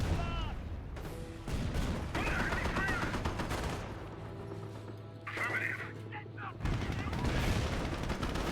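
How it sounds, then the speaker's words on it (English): A German tank in Company of Heroes comes under gunfire: repeated bursts of shots and impacts in uneven clusters, with a low engine hum in the middle stretch and a voice talking underneath. "German tank receiving some fire."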